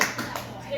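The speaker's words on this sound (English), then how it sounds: "Clap again for Zach" A comedy club audience gives a brief burst of applause with scattered claps, while someone speaks over it at the same time.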